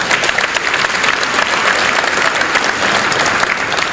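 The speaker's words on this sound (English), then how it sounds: "So I want to give them a big round of applause." Loud, dense applause from a large gala audience at a business excellence awards event, a steady wash of clapping with no talk over it.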